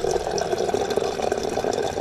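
Water and sediment pouring out of a hot water heater's drain while it is being flushed, a steady rushing and splashing stream that is close and continuous, with no voices.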